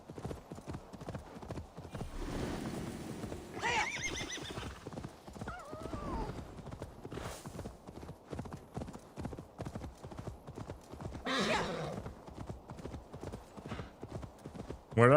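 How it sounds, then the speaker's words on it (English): Continuous rhythmic hoofbeats of a galloping horse in Assassin's Creed Valhalla, with a couple of whinnies breaking through, fairly close and steady throughout. "Where did I find this horse?"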